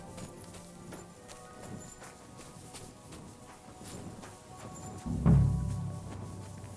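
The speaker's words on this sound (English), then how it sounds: "Somebody untied the horse and led him along the path." Horse hooves clip-clopping along a forest path in the video game Kingdom Come: Deliverance, soft irregular thuds at a moderate distance, with a louder low thump near the end.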